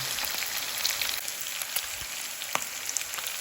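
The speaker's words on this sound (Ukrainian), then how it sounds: "Кожен кусочок і знову смажемо до золотистості." Pieces of pork neck frying in a pan until golden, a steady close crackling sizzle with scattered sharp pops and spits throughout, no talking.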